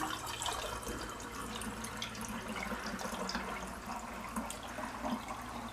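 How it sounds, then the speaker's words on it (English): Homemade ginger beer is poured into bottles, giving a soft, continuous stream of liquid with light splashing, quiet and close, with no talking. "And just fill the bottles up."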